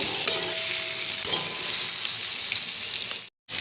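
Hot water goes into a pan of sizzling taro curry (gati kochur dalna) after the spices have been fried in oil. A loud, steady hiss and sizzle fills the whole stretch, with scattered crackles and no speech.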